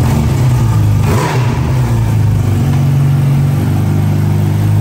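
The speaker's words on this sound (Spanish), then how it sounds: "la que en la actualidad es la motocicleta que se puede usar en las calles más rápida del planeta, la Kawasaki H2" A Kawasaki H2 motorcycle, a 208 kg street bike of nearly 240 horsepower, revs loudly and steadily up close, its engine note surging briefly then holding a strong, continuous roar.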